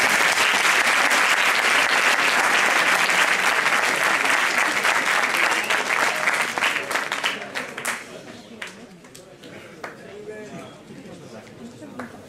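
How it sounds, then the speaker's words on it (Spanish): Sustained, dense audience applause from a crowd at a philosophy debate final in a hall, loud for about eight seconds before thinning into scattered claps and murmuring chatter. "Un aplauso."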